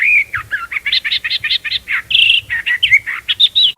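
Male Nightingale Reed-warbler singing on Saipan, a rapid, loud run of varied chirps and whistled phrases repeated without pause, close and clear over a faint low background.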